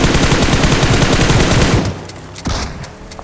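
Rapid automatic gunfire from a video game gun rattles loud and dense, then drops away. A few separate sharp shots and clicks follow.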